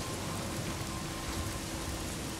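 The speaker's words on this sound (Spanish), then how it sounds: "también comenzó a llover" Steady rain falling in the forest in the zombie video game Days Gone, a dense, even hiss of rain on surfaces that continues without a break.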